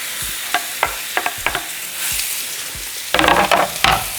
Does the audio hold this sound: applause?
no